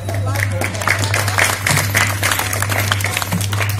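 An audience claps steadily at a public talk, a fairly loud, even patter of hands with a low hum running underneath.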